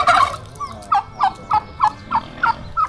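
Turkeys raised by villagers in a rural wooden-house village gobble in a rapid series of about eight evenly spaced, nasal calls, close and clear over a quiet outdoor background.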